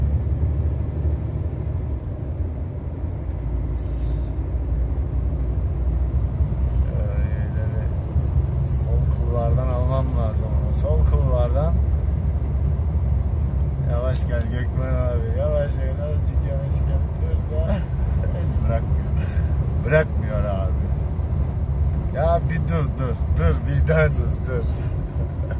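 A Mercedes-Benz Axor tractor truck's diesel engine rumbles steadily and loudly throughout, a constant low drone heard from close by, while people talk over it.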